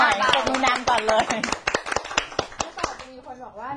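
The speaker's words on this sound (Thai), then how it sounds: "ต้องปรบมือหน่อยปรบมือนานก่อนเลย" A studio audience on a Thai variety talk show claps along with sharp, fairly regular hand claps, while a voice talks and sings over them.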